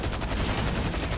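Rapid automatic gunfire in GTA 5 Online, a fast dense burst of repeated close shots rattling steadily throughout.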